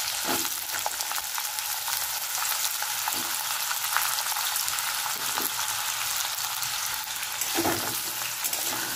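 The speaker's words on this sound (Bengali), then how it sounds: "হালকা করে আলুগুলো ভেজে নিই।" Potatoes fry lightly in hot oil with tempered spices, a steady, dense sizzle broken by occasional stirring clinks and scrapes; no one speaks.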